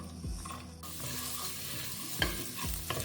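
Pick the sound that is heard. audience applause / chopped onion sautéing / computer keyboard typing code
chopped onion sautéing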